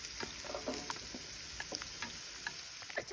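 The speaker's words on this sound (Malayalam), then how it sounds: "അപ്പൊ ഈ പാനിലേക്ക് നമുക്ക് കുറച്ച് എണ്ണ ഒഴിച്ചെടുക്കാം. നമുക്ക് ആദ്യം തന്നെ ഉള്ളി ഇട്ട് കൊടുക്കാം" Onions sizzling in oil in a pan while cooking an Iftar fish dish, a steady close crackling hiss dotted with small pops and ticks, with no talking.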